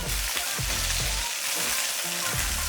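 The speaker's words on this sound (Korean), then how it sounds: "감자랑 당근 넣을게요. 자, 그리고 기름 한 번 더 넣고 살짝 볶아주세요." Potatoes and carrots stir-fry in oil for a curry, a loud, steady close sizzle with repeated scraping knocks of a utensil stirring against the pan.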